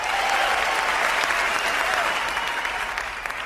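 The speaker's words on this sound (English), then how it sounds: "A bit more than half of the crowd clap and cheer for Bane." A large crowd claps steadily, dense applause with scattered cheers and shouts rising through it, loud and sustained throughout.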